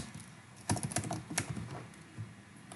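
Keys clatter on a computer keyboard as script is typed into a ServiceNow filter navigator, a quick irregular burst of clicks, close and fairly faint, with no one talking.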